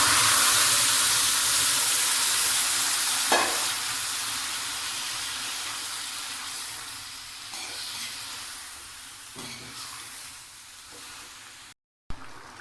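Boiled cauliflower and potato frying in mustard oil with garlic and onion in a village Bengali kitchen, a steady broadband sizzle and hiss that slowly fades, with a few soft clinks of stirring and a brief gap near the end.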